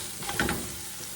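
Minced shrimp and toast fry in a skillet with a soft, steady sizzle and a brief stirring scrape in the middle of the short stretch.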